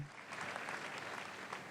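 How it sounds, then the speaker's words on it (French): A church congregation applauding, a brief soft patter of many hands clapping at a steady rate, faint and distant-sounding with no voices on top. "Applaudissons pour Jésus-Christ."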